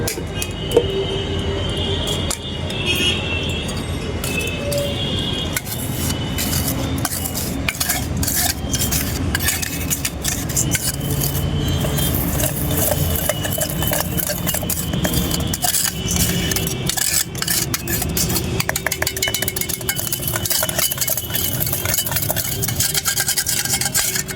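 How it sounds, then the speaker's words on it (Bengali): Spoon clinking and scraping steadily against a bowl while powdered sugar is stirred and dissolved for a homemade fruit cake, a continuous busy metallic rattle with no talk. "এবার চিনিটাকে এইভাবে ঘুরিয়ে ঘুরিয়ে চিনির দানাগুলো ভালো করে গলিয়ে ফেলি"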